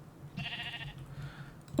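A sheep in the video game Minecraft bleats once, a short wavering bleat followed by a fainter second cry, over a quiet background.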